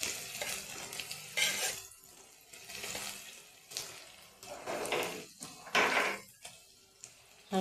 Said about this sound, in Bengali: হালকা করে পেঁয়াজ ভেজে নেব